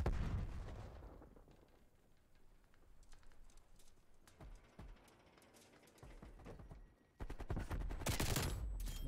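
Bursts of gunfire with distant explosive booms in a Call of Duty match, a busy patter of shots rising and falling over about nine seconds and swelling loud near the end.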